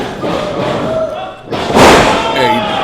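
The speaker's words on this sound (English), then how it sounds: "he's brought back into the ring the hard way over the top rope, landing with a thud" A wrestler goes over the top rope and lands with a loud, heavy thud on the ring during a triple threat wrestling match, the impact rising out of continuous crowd noise and commentary.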